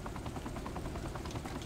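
Steady rhythmic thumping of a helicopter's rotor in Saints Row: The Third, continuous and fairly close, with no talk over it.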